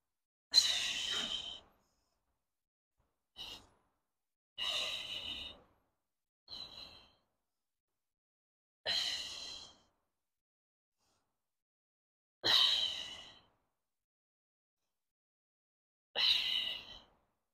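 Forceful breaths out during a postnatal core workout exercise, seven short bursts spaced a few seconds apart with silence between, close and fairly soft.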